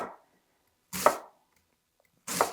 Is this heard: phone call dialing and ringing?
no